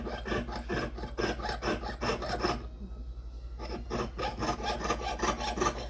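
Jeweler's hand saw cutting through a piece of silver, a quick regular rasping back-and-forth stroke, close and fairly quiet, with a short pause midway before the strokes resume.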